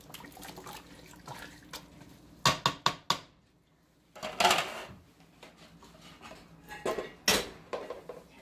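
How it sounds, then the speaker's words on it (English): Metal spoon clanking and scraping inside a pot of chili as it is stirred, a few sharp knocks between softer scraping, close by and alone. "Stir it up really well."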